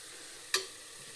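Sprouted horse gram fries in a pan with a faint, steady sizzle, broken by a single sharp click partway through.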